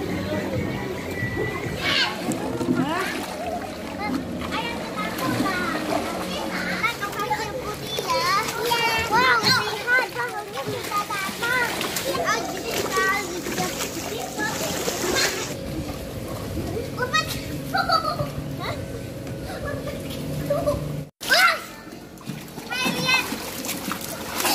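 Children splash and play in an outdoor swimming pool at Cicapar, with kids' voices and shouts throughout and water splashes close by under the continuous chatter, plus one sharp thump near the end.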